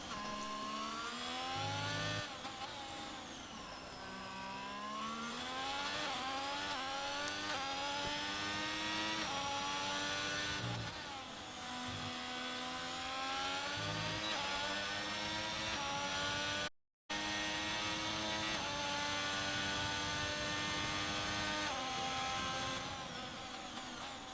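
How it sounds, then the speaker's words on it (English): Formula-style race car engine on a Singapore street circuit, screaming at high revs with rising pitch sweeps before each upshift, loud and continuous, a short dropout partway through. "allowing those revs to really go high before gearing up in the straight"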